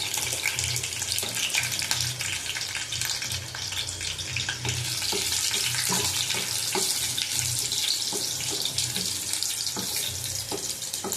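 Dried red chillies, garlic and bay leaf sizzle in hot oil as a tempering for dal, a dense, steady crackle and hiss with scattered pops, heard alone without speech.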